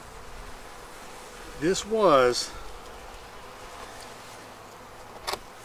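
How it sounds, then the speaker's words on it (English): Many bees swarm around a blue hive, a steady low buzz in the open air while someone speaks briefly over it, with a short rustle near the end. "Oh, a lot of bees. A lot of bees."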